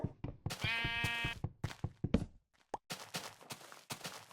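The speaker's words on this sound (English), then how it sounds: "this has got to be the pink sheep of Hearse'n around" A Minecraft sheep lets out a single clear, nasal bleat amid a string of blocky in-game footsteps and dull knocks, with the stepping continuing after the call.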